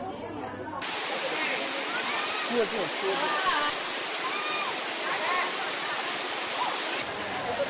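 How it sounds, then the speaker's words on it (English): A waterfall pours while someone climbs up it, a dense continuous rushing hiss of falling water, loud and steady throughout with no voices standing out. "this is me going up the waterfall"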